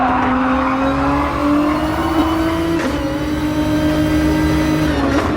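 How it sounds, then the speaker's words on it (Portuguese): A GTR race car in a racing video game at Monza holds a loud, steady engine drone with slowly rising pitch, briefly dipping twice as if shifting, with no talk. "Esse GTR, muito cuidado ao acelerar, ao pisar no acelerador."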